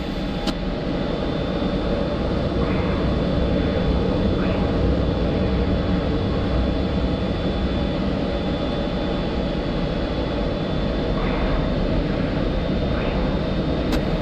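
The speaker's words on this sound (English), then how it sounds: "watch as I roll inverted and then pull for the ground. I'll pull out of a half-loop flying in the opposite direction" An F-16 Viper jet in the DCS flight-simulator game rolls inverted and pulls through a split S, its engine a loud, steady broadband roar that holds constant throughout.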